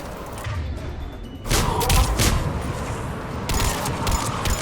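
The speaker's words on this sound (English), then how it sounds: "Enemy on the mounted gun. Gotta get him off that gun." A mounted gun fires in Mass Effect 3 in loud bursts of rapid shots. A quieter stretch comes first, then one long volley, a short pause and another burst, with booming thuds under the shooting.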